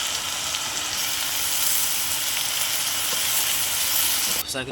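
Amaranth greens fry in a pan with a steady, loud sizzling hiss, close by, ending in a brief clatter.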